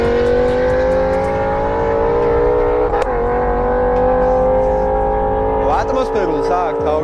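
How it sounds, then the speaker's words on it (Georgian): A BMW M6 with a Dinan-tuned naturally aspirated V10 roars loudly as it accelerates, its engine note climbing steadily through the gears with a sharp shift blip and a gear change near the end. "მაგარი ხმა აქვს, просто 10 ცილინდრიანს."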